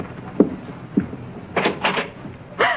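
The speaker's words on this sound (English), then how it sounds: "Now, just answer the door, Mrs. Mitchell, like you were here alone." A door opens in a radio drama scene: a few soft knocks or clicks followed by a rattling latch and creaking swing, moderately close against a faint background hiss.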